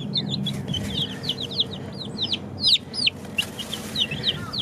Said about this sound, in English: it's time for the little chickens to go back in their house